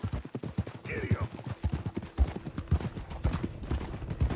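A horse gallops in Red Dead Redemption 2, with rapid, rhythmic hoofbeats close up, a brief whinny early on, and some voices mixed in.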